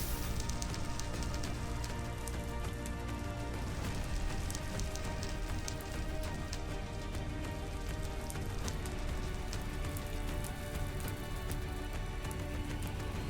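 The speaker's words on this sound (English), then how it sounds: "But of course, it started to rain as I started burning it down." Steady rain in Minecraft, a dense, even hiss of drops falling without a break, loud and close throughout, with no voices.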